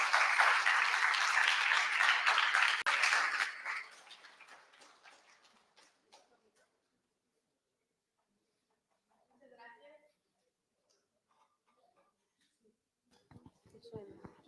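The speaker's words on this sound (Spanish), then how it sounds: "Un fuerte aplauso, por favor." Loud audience applause fills the opening seconds at a book presentation, then fades out into near silence with a few faint scattered sounds afterward.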